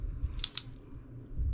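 Two quick crisp snips of scissors cutting white fabric for a pillowcase, close and fairly soft against a low room hum, with no talking.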